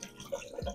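Water running from a tap in a university hall bathroom, a short, steady wash of flow with small splashy bursts, close by and fairly quiet, no voices.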